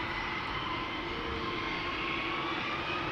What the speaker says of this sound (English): that's an arriving airplane